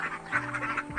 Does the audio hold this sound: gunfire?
no